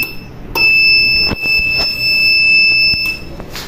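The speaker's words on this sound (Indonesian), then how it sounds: "Jika buzzer sudah berhenti" An automatic drink ordering machine for a coffee shop sounds its buzzer at power-on, a loud steady high electronic tone running for a few seconds, with clicks at its start and end.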